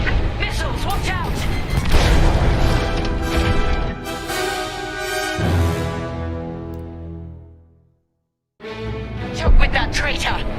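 Heavy missile blasts and rumbling explosions during a Star Wars Squadrons space battle, loud and booming over a busy combat soundscape, then a sudden drop to silence before another burst of impacts.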